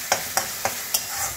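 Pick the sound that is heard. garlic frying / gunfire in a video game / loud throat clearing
garlic frying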